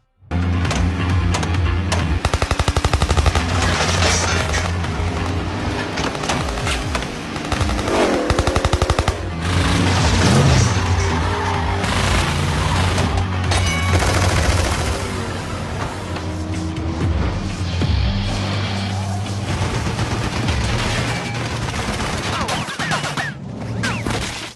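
Film gunfire as racers shoot at a car, rapid machine-gun bursts and volleys over a roaring engine, loud and dense throughout with brief pauses, no talk.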